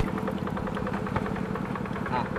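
A person mimics a small farm tiller engine with their mouth, a rapid, steady chugging putter that runs on evenly throughout.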